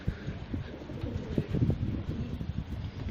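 Soft, low pigeon coos on a balcony repeat in a steady murmur against faint outdoor background noise, with no voices.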